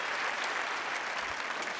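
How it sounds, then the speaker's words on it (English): A studio audience at a televised magic show applauds a performer, a dense, even wash of clapping that holds steady from start to finish with no talk over it. "how about a round of applause for Miss Jane Simone?"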